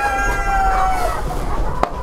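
Hens and a young pullet in a poultry yard at feeding time give steady clucks and calls close by, with a crowing note in the background.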